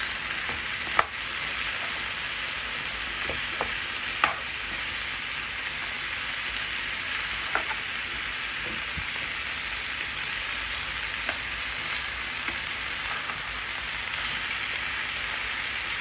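Vegetables for a salmon dish fry in a pan with an even, hissing sizzle that runs unbroken, dotted with a few small clicks and pops, moderately close and with no voices.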